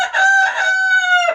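Several roosters crow indoors, one long, loud, close cock-a-doodle-doo that holds steady, then drops off sharply at the end.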